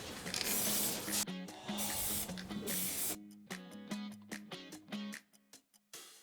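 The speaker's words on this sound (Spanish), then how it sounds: "le vamos a aplicar una pintura spray lo más parecida al color de nuestro Wall Panel 3D" Spray paint in a color matched to a 3D wall panel is applied to metal profiles on an exterior wall, with long steady hissing bursts breaking into short rapid sprays and pauses near the can.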